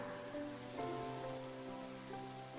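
Steady rain patters as a dense, even wash in the visual novel Psychedelica of the Black Butterfly, low in level and continuous beneath soft sustained background music.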